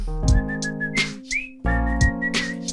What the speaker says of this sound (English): La da da, now whistle.